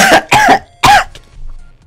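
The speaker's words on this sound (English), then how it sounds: "So I literally just had a coughing fit right then." Three harsh, close coughs in quick succession from a person struck by a coughing fit, loud and isolated, followed by a softer trailing breath.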